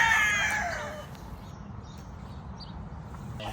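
A gamecock, a fighting rooster kept on a farm with other breeding fowl, crows once near the start. The crow is moderately loud and fades within about a second, leaving steady outdoor background noise.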